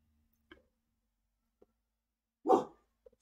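Dogs barking outside give a faint short yap, a tiny click, then one solid, moderately loud bark, followed by a couple of soft distant blips.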